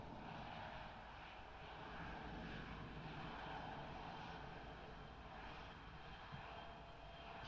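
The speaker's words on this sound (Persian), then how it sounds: "خب داره هواپیما رو میکشه." A Bombardier CRJ-200 in X-Plane 11 being pushed back, with steady aircraft engine and cabin hum droning evenly at moderate level and no talking.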